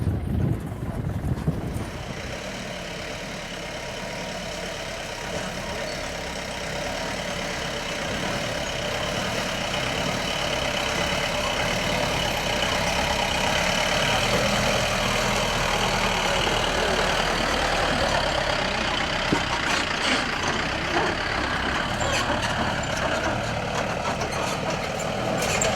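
A vehicle rolls along a dirt track through a village, its engine droning steadily and close for the whole stretch with rumbling road noise and occasional knocks, no talking.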